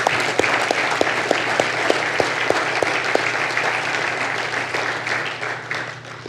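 A congregation claps in church, a full, even burst of applause with a few sharper claps standing out, sustained for several seconds and then tapering off.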